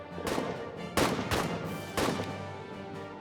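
Repeated gunshots from rifles in the First World War trench video game All Quiet in the Trenches, coming as loud sharp bursts about once a second over a continuous background of battle noise, with no talk.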